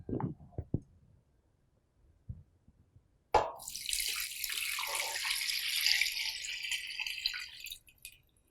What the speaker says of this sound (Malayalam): ഇതിലോട്ടിനി ആവശ്യത്തിന് വെള്ളം ഒഴിച്ചു കൊടുക്കാം.